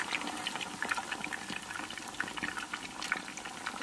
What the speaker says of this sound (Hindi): पनीर को हम फ्राई होने देंगे